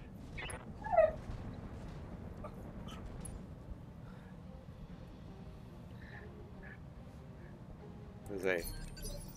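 A dog gives short high whimpers and yips in a room, once near the start and again near the end, with faint jingling of keys or tags and a quiet background hum.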